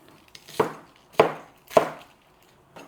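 Spring onion chopped on a board with a knife, three sharp close chops spaced about half a second apart followed by a softer fourth, no talking.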